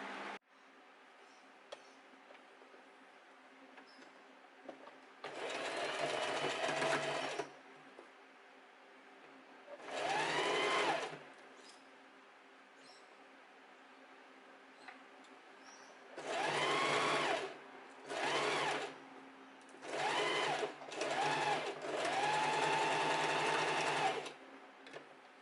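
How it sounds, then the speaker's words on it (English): A domestic sewing machine stitches a summer top in a series of bursts, some long and some short, with quiet pauses between runs. The motor whirs close and steady with each burst. "over to the sewing machine and we're just gonna sew along here"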